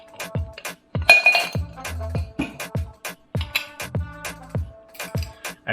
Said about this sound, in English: Fill your rocks glass with ice.